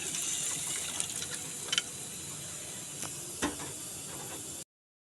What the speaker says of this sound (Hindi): इनको थोड़ा सा पानी के साथ वॉश करके